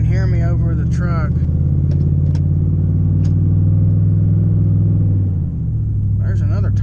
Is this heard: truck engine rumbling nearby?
yes